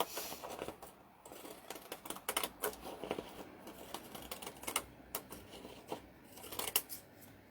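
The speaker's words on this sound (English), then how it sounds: "my scrapbooking paper scissors here." Scrapbooking paper scissors cutting through cardstock for a Christmas tree sign, a run of quiet, close snips and crisp paper clicks in an irregular rhythm, with small rustles between cuts and no talking.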